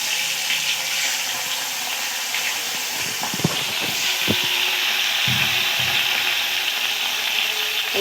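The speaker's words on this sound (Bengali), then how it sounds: "উল্টিয়ে পাল্টিয়ে সব মাছগুলোকে লাল লাল করে ভেজে নেব।" Pieces of katla fish frying in hot oil, a steady close sizzle with occasional spits, taps and scraping as pieces are placed and turned in the pan.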